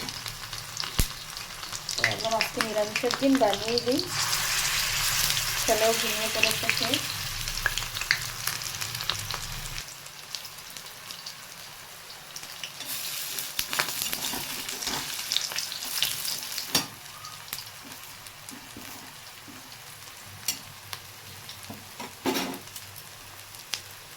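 Broccoli pakoras fry in hot oil in a home kitchen, a dense bubbling sizzle close by that eases and quiets partway through, with scattered clinks and stirring knocks and no voices.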